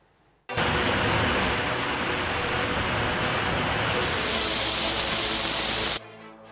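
Heavy rain falls in the Cauvery basin as a loud, dense, continuous hiss that starts abruptly and cuts off near the end.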